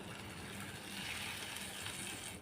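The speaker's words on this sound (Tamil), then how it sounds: "ஒரு கிளாஸ் அளவுக்கு தண்ணியை நான் எக்ஸ்ட்ரா சேர்க்குறேங்க" Extra water, about a glassful, poured into a village-style okra tamarind curry, a steady broadband gushing pour close by, continuous and even for a couple of seconds with no voices.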